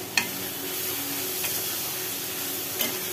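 Fish curry with mourola fish, potato and pumpkin simmers in a pan as it is stirred, giving a soft steady sizzle with a few brief scraping knocks of the spoon against the pan.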